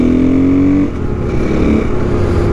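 Supermoto motorcycle engine droning loudly and steadily at speed on an expressway, with a shift in pitch partway through as the revs change.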